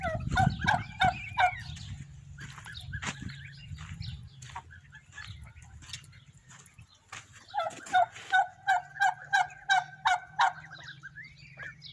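Chickens in a coop call out in repeated loud, honking bursts, one rhythmic series at the start and a longer one later, over a low background rumble.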